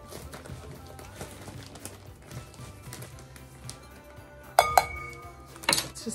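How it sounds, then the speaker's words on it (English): Salt and brown sugar being stirred into a cinnamon roll filling in a bowl, with soft scraping and a few sharp clinks of utensil against dish, close and intermittent. "Let's just get this all mixed together"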